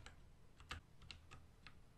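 Scattered computer keyboard key presses, about six separate clicks spaced irregularly over two seconds, faint against a steady low background hum while an arrow key is tapped repeatedly during a Roblox game.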